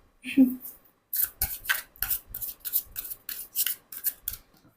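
Oracle cards are shuffled and drawn close up, giving a brief vocal sound first and then a regular run of crisp, snapping card flicks, about two per second.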